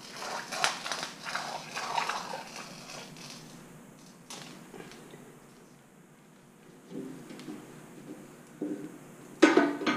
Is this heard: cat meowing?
no